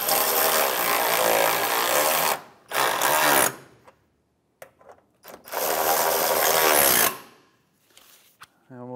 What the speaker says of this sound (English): put our two 10 millimeter bolts in. We'll tighten these down.